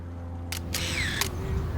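A Sony camcorder's shutter fires while taking a still photo, giving a few quick, close mechanical clicks within a second, followed by a short sliding electronic tone over faint background hum.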